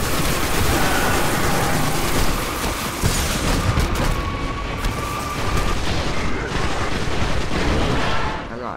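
Gunfire in Destiny: a dense, noisy barrage of shots and booms runs throughout, with a thin electronic whine weaving through. A voice talks over parts of it.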